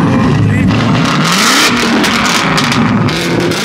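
A loud, throaty Mustang exhaust with eight tips revs and roars up close on a Los Angeles highway, the engine pitch climbing and falling, with voices talking over it.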